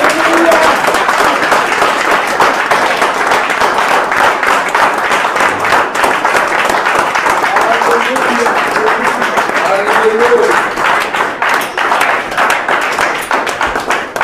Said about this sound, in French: Qu'on acclame Jésus pour son nom.